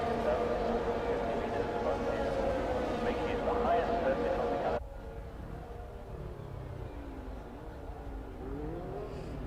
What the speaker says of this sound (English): We have now cars approaching the grid.